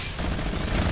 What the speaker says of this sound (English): He has a minigun.